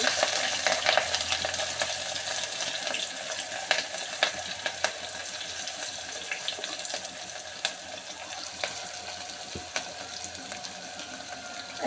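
Chopped onions and green chillies sizzle steadily in hot oil with cumin, cinnamon and cloves for a potato and chana dal curry, a constant bright crackle with scattered sharp pops and no talking.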